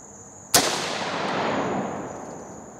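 A single 30-30 Winchester rifle shot at an outdoor ammo test cracks sharply and loudly, then rolls away in a long fading echo that lasts about two seconds.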